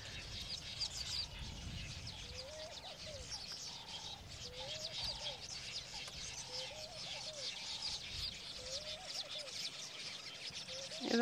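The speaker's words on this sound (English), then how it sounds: "These are village weavers." Village weaver birds calling busily around their nests during summer, a dense chorus of repeated chattering, buzzy calls and short whistles, steady and fairly near throughout.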